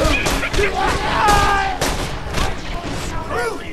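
Rapid gunfire from a weapon in the video game Borderlands 2 crackles in dense bursts over about four seconds, mixed with booms and game effects while a person talks over it.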